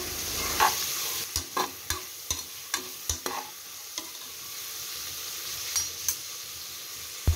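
Three large cut onions fry with whole spices in oil in a cooker, making a constant soft sizzle under a series of sharp spoon scrapes and knocks against the metal pot.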